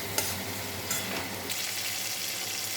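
A spice paste for rui fish curry sautés in a pan with a steady sizzling fry, and a spoon stirs it in a few scraping strokes. The sound is close and continuous, with no voices.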